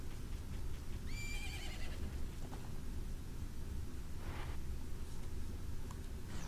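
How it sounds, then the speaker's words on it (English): A horse in The Legend of Zelda: Majora's Mask gives a short whinny, followed by soft hoofbeats over a constant game background hum, fairly quiet overall and with no talking. "there's our horse we thought we lost in the beginning of the game"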